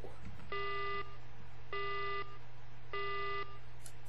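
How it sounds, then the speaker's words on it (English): Three evenly spaced electronic beeps count down a race start in the video game Mega Man Battle Network 2, each about half a second long and bright, over a low steady game hum with no talking. "Beep! And the race has begun!"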